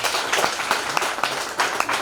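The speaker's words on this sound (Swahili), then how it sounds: "Piga makofi." A church congregation claps together during a lively service, a dense, steady patter of many hands filling the room for about two seconds with a few sharper bursts.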